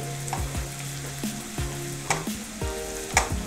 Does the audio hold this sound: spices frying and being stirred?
yes